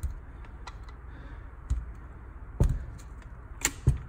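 A Honda CR125 gearbox shifter clicking through a half click into neutral during a bottom-end rebuild: a few sharp, close mechanical clicks and taps spread over several seconds against a quiet background.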